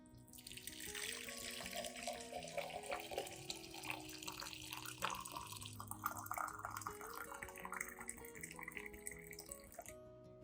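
Steady water streams from a faucet into a sink, a continuous splashing rush with soft gurgles, close by and uninterrupted for the full length.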